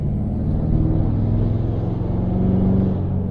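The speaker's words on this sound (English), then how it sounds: "and the turbo is just screaming." Ford F250 pickup with a 6.7 Powerstroke diesel and a big non-VGT turbo, driving at light throttle with a steady close engine rumble and a high turbo whine above it.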